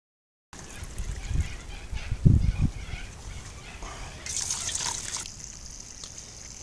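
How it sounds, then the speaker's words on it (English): Wort runnings trickle and splash during recirculation of a small mash on a home brew day, a steady liquid dribble with a louder gush midway and a bright hiss of pouring near the end. "Time to start some recirculation just to get the runnings"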